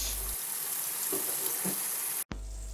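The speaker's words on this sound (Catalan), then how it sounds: "els giro, les doy la vuelta, y que se fríen por el otro lado" Meat for Catalan fricandó sizzling steadily in a frying pan, a dense, close hiss of hot fat that runs almost unbroken, with one sudden brief cut near the end.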